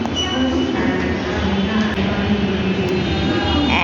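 Metro train rumbling steadily inside an underground station, a continuous loud roar with a low drone and faint squeal throughout, no talk.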